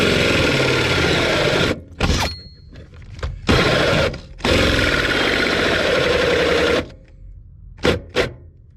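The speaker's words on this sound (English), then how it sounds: "We just drilled through 2 chunk of metal right there" Power drill boring through two layers of sheet metal at a car firewall, harsh loud grinding in several bursts of varying length separated by quiet gaps, close up and without speech.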